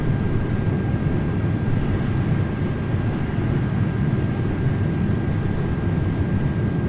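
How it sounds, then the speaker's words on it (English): Military VTOL aircraft flying over at night in Microsoft Flight Simulator 2024, a steady droning engine roar holding constant for several seconds, with no talking. "Now I got the military copters flying over."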